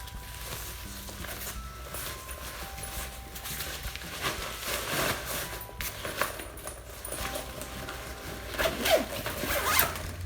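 A baby bag's zipper is pulled open and closed several times in quick rasping strokes, close up, with some light handling noise of fabric.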